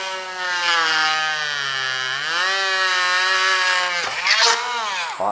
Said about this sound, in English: Get our Dremel and drill a hole